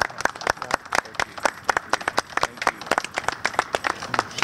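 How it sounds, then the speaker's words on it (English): An audience at a Lynchburg Optimist Club award presentation claps in a burst of applause, dense irregular hand claps filling the room, fairly close and steady for several seconds with no talking over it. "Round of applause."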